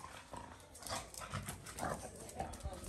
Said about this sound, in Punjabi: ਕੁੱਤਿਆ ਹਟ